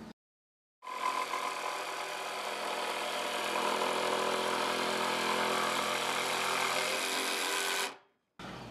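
A Panasonic EZ4550 cordless jigsaw with a built-in blower cuts through wood in one long, steady, whirring buzz that starts abruptly and stops after about seven seconds, heard alone and fairly faint.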